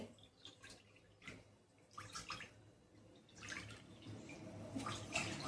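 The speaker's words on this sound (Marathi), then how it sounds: "मी त्यामध्ये हे मी 2 वाट्या पाणी घालणार आहे." Two measured bowls of water poured into a pan on a home kitchen stove to cook a flour dough mixture, a soft continuous splashing and trickling, close and fairly quiet, with no talk.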